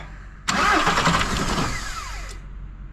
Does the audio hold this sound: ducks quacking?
no